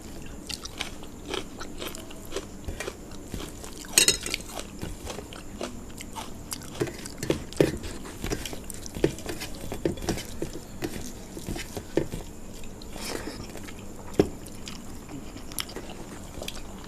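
Crunchy chewing and biting on a piece of chicken dry fry, close to the mouth, with steady wet mastication and occasional crisp crunches over about seventeen seconds, no talking.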